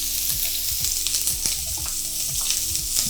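Onions sizzling in a hot pot for curry pelau, a steady loud frying hiss with occasional stirring scrapes and clinks, close up and without talk.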